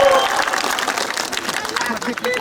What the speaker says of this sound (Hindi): उसके लिए भी ताली बजा दो।